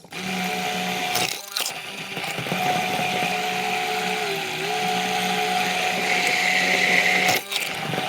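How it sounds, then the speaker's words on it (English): A stick blender whirs steadily while emulsifying a Dijon mustard vinaigrette, a loud continuous motor drone that dips briefly twice as the blade shifts, with no talk. "I'm going to use a stick blender to emulsify this."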